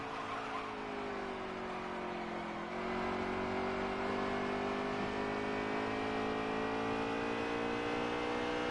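Xfinity race cars circling Richmond in a racing video game, a sustained engine drone with steady rising pitch as the cars accelerate, tires hissing faintly, continuous and fairly quiet with no talk.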